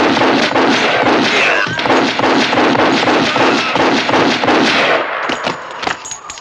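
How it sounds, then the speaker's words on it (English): Rapid, loud gunfire from a John Wick 3 action scene, a dense barrage of repeated shots with thuds and clangs that thins into scattered bursts at the end. "I just want a man with a gun and a lot of bullets and empty a clip on one enemy"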